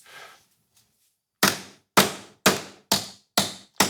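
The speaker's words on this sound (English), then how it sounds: "I'm holding it for you, so you can just hammer" Six sharp, evenly spaced hammer blows ring on the metal of a sword hilt being shaped, each a loud close strike with a short decaying ring, after a brief faint sound and a pause.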